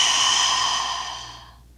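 A single long, soft exhale during a standing forward bend in a yoga flow, airy and close, fading out smoothly over under two seconds with no talk.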